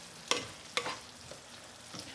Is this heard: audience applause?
no